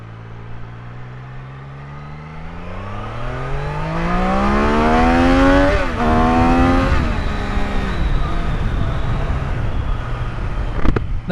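A Triumph Daytona 660 motorcycle engine revs hard to 12,000 RPM, its loud, close whine climbing steadily in pitch, dipping briefly, then settling back to a lower drone.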